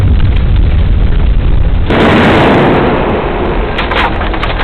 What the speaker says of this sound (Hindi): अचानक एक जबरदस्त धमाका हुआ